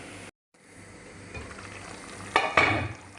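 Chicken menudo cooking in a pot gives off a soft, continuous bubbling sizzle at close range, with a couple of sharp metallic clanks of a utensil against the pot near the end.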